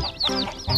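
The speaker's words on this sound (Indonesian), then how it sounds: "2 ekor ayam rainbow" Two rainbow chickens cluck close by in a quick series of three short, bright calls, loud and clear with no talking.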